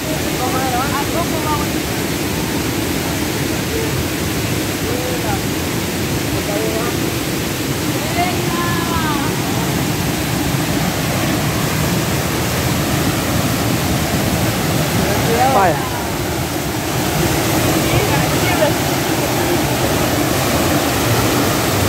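Swollen river water pours steadily into a pool on the Jujutla river in El Salvador, a dense, continuous roar that stays loud and close for the whole stretch, with faint voices surfacing briefly beneath it.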